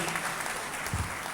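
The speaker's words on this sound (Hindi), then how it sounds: "खुल के ताली बजाएं, घबराएं नहीं" Brief, fairly quiet burst of audience clapping at a speech event, with a steady spread of many hands and no voices over it.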